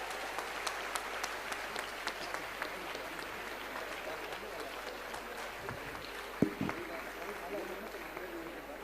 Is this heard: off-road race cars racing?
no